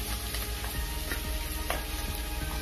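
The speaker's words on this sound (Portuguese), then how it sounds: "Agora que o óleo aqui já tá bem quente, a gente vai vir e eu começar a refogar aqui, tá?" Onion sautés in very hot oil for a meatball pasta sauce, a steady close sizzle with occasional stirring scrapes and spatters, no voices.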